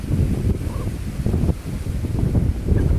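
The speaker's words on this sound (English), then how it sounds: "Every once in a while we get these really heavy gusts of wind." Strong gusty wind roars and buffets the microphone with a dense low rumble, rising and falling in surges throughout.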